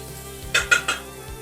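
Cumin seeds sizzle in hot oil in a pan while being stirred, with a soft steady hiss and three sharp scraping clinks of the spoon against the pan.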